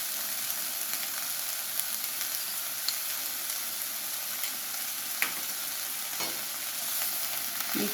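Vegetables stir-frying with Schezwan sauce for Hakka noodles, a dense continuous sizzle with small scattered clicks of stirring, steady and close, no voices.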